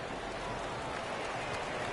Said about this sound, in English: The rain set to continue as we are underway in the second